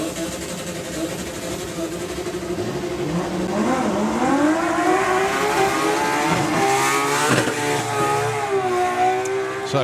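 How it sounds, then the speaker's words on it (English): Drag racing cars in a doorslammers event doing burnouts, loud sustained engine roar rising in pitch as they rev, tire screech mixed in, with a commentator talking over it. "Let's let their burnouts go through."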